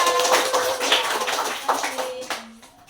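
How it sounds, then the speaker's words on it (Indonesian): Classroom applause for a student group after their presentation, a brief burst of scattered hand claps with some voices mixed in, fading out toward the end. "Tepuk tangan untuk kelompok 2"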